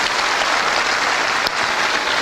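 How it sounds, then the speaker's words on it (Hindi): A crowd at a motivational talk gives loud, sustained applause in honour of a guest's father, thick continuous clapping filling the room from start to end. "मैं चाहूंगा उनके पिताजी के लिए जोरदार तालियां जरूर होनी चाहिए"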